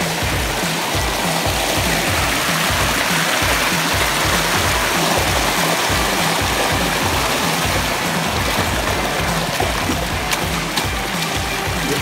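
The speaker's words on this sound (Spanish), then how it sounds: "Y aquí desemboca el río. De la montaña al río." A river flowing down from the mountains near Mixquiahuala, a steady, full rush of running water that stays loud and constant throughout with no pauses.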